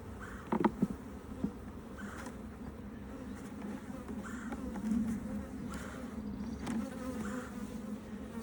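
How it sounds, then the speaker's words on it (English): Honeybees swarming around an opened hive during a Demaree split, a steady close buzzing drone with individual bees passing near, and a few brief knocks from handling the hive boxes. "for all the ridiculous amount of returning bees"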